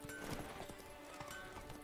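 Horse hooves clopping on a road while riding in The Witcher 3: Wild Hunt – Blood and Wine, a steady rhythmic clip-clop of repeated hoof strikes at moderate distance, with faint game ambience beneath.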